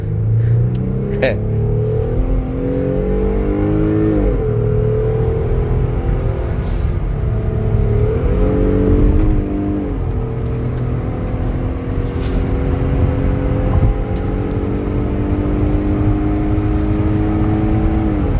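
A 2022 Jeep Gladiator cruises at high speed on a Pennsylvania highway, its steady loud road and engine rumble rising and falling with gear changes, heard from inside the cab with someone talking over it.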